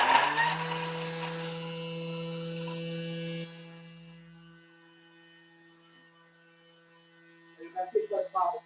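A Thermomix TM6 chops broccoli soup ingredients with a loud, steady motor whir for about three and a half seconds, which then winds down and stops; quiet follows, and a few brief knocks and clatters come near the end.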